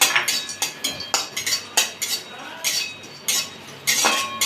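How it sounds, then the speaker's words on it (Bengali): Whole cinnamon, cardamom and cloves are dry roasted in an empty kadai, giving rapid repeated metallic clinks and scrapes of a spatula against the pan, close and sharp, with no talking. "এটা আমি শুকনো কড়াইয়ে একটু ভেজে নিচ্ছি।"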